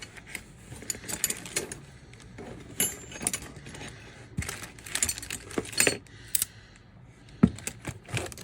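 A small spring and tiny set screws from a 1981 Bridgestone bicycle accessory box handled up close: faint, scattered metallic clinks and rattles in irregular bursts over quiet background.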